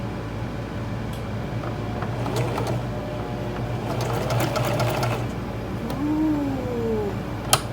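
A home sewing machine stitching in a steady, fairly quiet mechanical whir, with a rhythmic needle patter that swells mid-run and a sharp click near the end.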